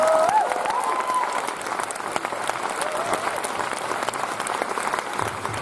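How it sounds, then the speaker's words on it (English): An audience at a film Q&A for the movie Joy bursts into sustained applause, a dense, even wash of clapping with a brief tonal sound near the start and faint voices mixed in. "so a big round of applause for them."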